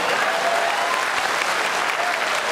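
A large audience at an AIMBSCS political convention in Latur, 2015, claps in loud, dense, sustained applause that holds steady throughout.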